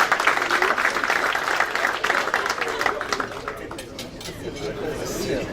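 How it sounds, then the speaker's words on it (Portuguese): At an anniversary event of an insurance association, the audience applauds the birthday celebrants with steady, moderately loud clapping that fades slightly toward the end, while voices chatter underneath. "Uma salva de palmas para eles"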